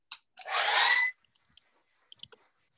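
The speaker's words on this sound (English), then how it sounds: "I'm going to dry with my hair dryer." A hair dryer gives a short, close burst of blowing air lasting under a second, then cuts off. Faint scattered clicks and rustles follow.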